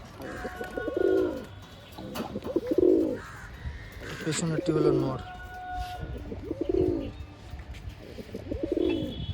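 A kalshila pigeon pair, female in front and male behind, coos in five evenly spaced, throaty bursts, loud and near, while someone talks between the calls.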